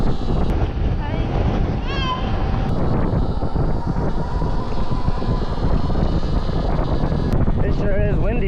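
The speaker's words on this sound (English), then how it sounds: "It sure is windy today, guys. It is super windy." Strong wind roars steadily into the microphone, a constant heavy rumble throughout with faint squeaks now and then.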